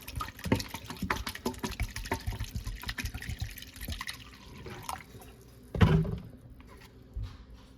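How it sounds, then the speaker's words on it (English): Well water poured and strained through a very fine sieve into a jug while making dill pickles: steady close trickling and dripping, with a louder splash near the end. "I'm going to strain this well water through a very fine sieve"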